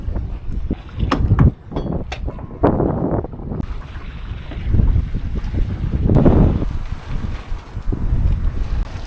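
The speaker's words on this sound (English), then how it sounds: "We've got the wind today." Wind roars across the microphone aboard a sailboat in an estuary of the Gokova Gulf, gusting in uneven surges with water and hull noise beneath, loud and close throughout.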